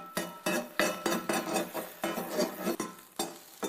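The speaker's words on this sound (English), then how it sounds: "And now I take a slotted spoon and press the mixture down a bit in the pan." A slotted spoon presses a grated potato rösti mixture down in a frying pan, making a quick series of sharp metallic taps and scrapes, close up and clear with no voices.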